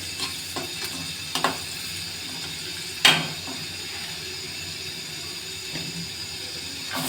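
Leafy greens are dropped into a hot frying pan with turmeric and sizzle steadily. A few sharper pops and crackles stand out over the continuous close frying hiss.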